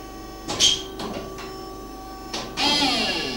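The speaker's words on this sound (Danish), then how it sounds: "nu kommer sandskuddet om et øjeblik" Sand shot on a 1962 DISAMATIC foundry moulding machine: a few sharp mechanical clunks and hisses, then a loud sustained blast of air and sand near the end, close and without talk.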